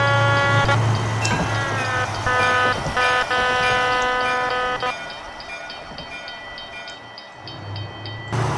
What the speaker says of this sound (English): the horn does not have a Doppler.